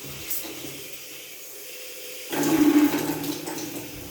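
Water gushes from a freshly opened tap to fill a 200-litre water heater, a sudden hissing rush that starts after a quiet stretch and keeps flowing steadily.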